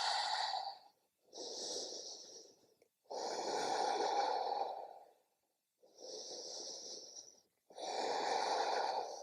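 Slow, deep breathing held in a yoga plank: five long, close breaths alternating in and out with short pauses between, each a soft airy rush with no talking.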